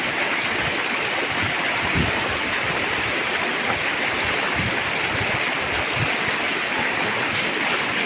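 Steady rushing water flows continuously, a loud broadband wash with faint gurgles, close by and unbroken by voices.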